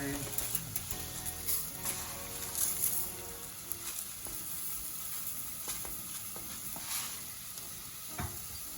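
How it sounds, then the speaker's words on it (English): Lentils frying with onions and garlic in a pan for a vegan curry, giving a steady close sizzle with stirring scrapes and faint speech in the background throughout. "Just going to fry that down with the onions and garlic"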